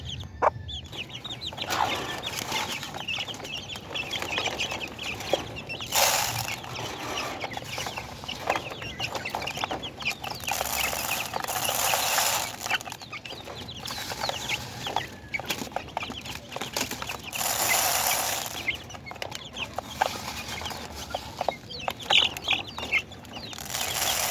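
Small chicks cheep and peep continuously nearby, with a few hen clucks mixed in and no talking.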